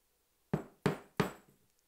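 A sharp chisel is struck three times in quick succession while squaring the corners of a wooden mortise, each a close, crisp knock that rings briefly and fades.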